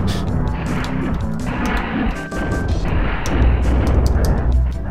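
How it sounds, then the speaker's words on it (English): Shotgun blasts and crashing combat noise from the SNES version of Doom, loud and continuous, with a dense wash of game sound effects and a faint voice talking underneath. "Taste my shotgun. Boomstick."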